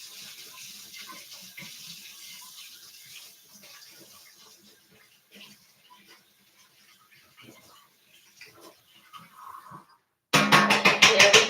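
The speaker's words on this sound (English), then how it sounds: "I'm going to rinse this off." Water runs from a kitchen tap as a spoon is rinsed during garlic prep for a fall brunch, a soft steady hiss that ends in a short, much louder gush of water.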